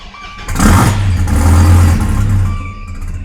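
A Gen 5 Dodge Viper with a fault and check engine light cranks and fires, its engine surging loud and close for about two seconds before sagging into a rough, struggling idle that barely holds on.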